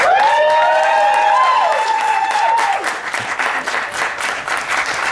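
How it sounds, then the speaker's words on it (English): Audience at a Commedia dell'Arte expo applauding a contest winner: dense, loud clapping from a crowd that carries on throughout, with a whistle or sung tone gliding over the first few seconds before the clapping thins slightly. "Let's get one more round of applause for our wonderful winner, Cecily."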